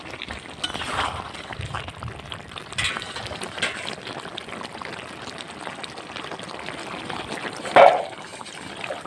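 Water pours into a boiling mutton curry cooked village-style with hand-ground spices, giving a steady, moderately loud trickling wash that runs throughout, with a brief louder splash near the end.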